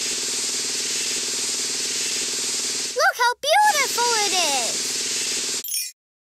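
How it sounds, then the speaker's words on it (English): A toy spray gun in a kids' house-building game hisses steadily for a few seconds, then a voice speaks briefly over it before the spray cuts off into silence. "Now let's take the spray gun and paint the stains."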